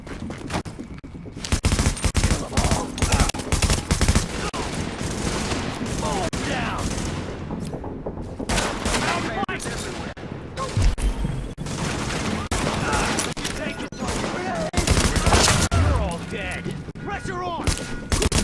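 Dense automatic gunfire from Tom Clancy's The Division, loud rapid bursts and fusillades with heavy impacts running almost continuously, mixed with shouted in-game voice lines over the shooting.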